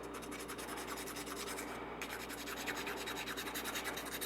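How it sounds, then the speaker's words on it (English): A metal file rasps over the square edges of a Stoeger gun part, rounding them smooth with steady, close back-and-forth scraping strokes that continue almost without pause and stand alone with no talking. "And just file."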